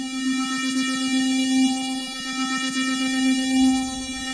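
A sustained synthesizer tone in Cubase with a steady, pulsing wobble from a sine-wave LFO set to 1/16, rich in harmonics and holding at an even, moderate level throughout.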